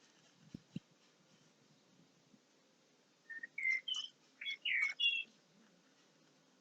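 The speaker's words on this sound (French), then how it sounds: "Vous entendez les petits oiseaux?" Small birds chirp outdoors in a spring setting, a short cluster of bright, close tweets after a few quiet seconds with a couple of soft knocks and light background hiss.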